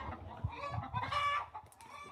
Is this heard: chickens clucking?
yes